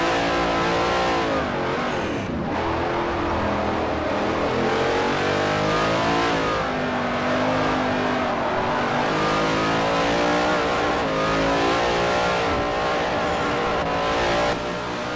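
V8 Supercar engine heard onboard in Forza Motorsport 4 at Hockenheim National Circuit, loud and close, revving hard through gears with repeated rising and falling pitch sweeps and brief lifts between shifts.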